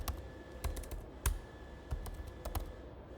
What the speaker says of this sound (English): Let's type in sleeve.